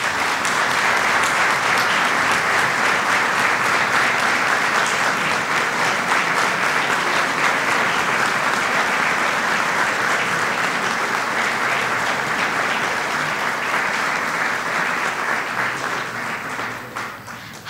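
A university ceremony audience applauds an honorary mention certificate presentation, a long, even wash of dense clapping that holds steady for many seconds before tapering off at the very end.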